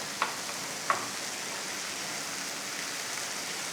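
A shark cutlet frying in a pan, giving a steady, even sizzle throughout with two faint brief clicks near the start.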